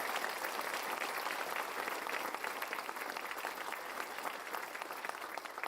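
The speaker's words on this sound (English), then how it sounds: "Let's give Natalie, Melissa, and Casey another round of applause." Audience applause at a community accelerator and childcare business ribbon cutting, a continuous wash of many hands clapping, moderately distant and steady throughout.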